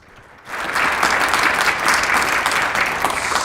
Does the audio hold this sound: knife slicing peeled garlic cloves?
no